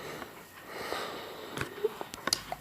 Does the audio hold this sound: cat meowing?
no